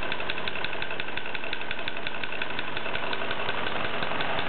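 A stationary D14 tractor engine, much like a D455 or 405, runs steadily while driving a workshop line shaft by pulley, its loud continuous rumble carrying a rapid knocking beat throughout with no talk.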